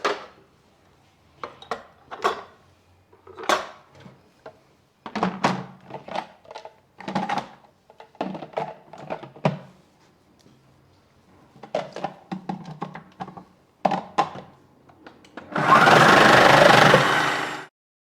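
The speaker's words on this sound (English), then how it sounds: "So today I'm going to show you how to use our 2mm slicing blade to slice our carrots." A Magimix Cook Expert food processor slices carrots with a 2mm blade: a run of irregular close knocks and clatters as pieces drop, ending in a loud, steady whirring burst of the motor.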